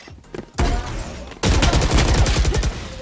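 Video game gunfire: a short quiet lead-in, then a loud burst of shots, a brief pause, and a sustained rapid volley of automatic fire, close and punchy.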